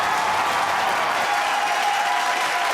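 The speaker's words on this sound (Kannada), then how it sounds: "ಪ್ರಕೃತಿ, ಜೋರಾದ ಚಪ್ಪಾಳೆ ಬರಲಿ ಪ್ಲೀಸ್ ಹಾಕಿವಿ" A studio audience at a Zee Kannada singing show applauds young singer Prakruthi Reddy with steady, dense clapping that fills the whole stretch at an even loudness.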